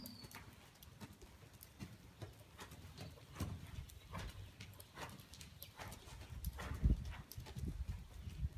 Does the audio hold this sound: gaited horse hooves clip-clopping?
yes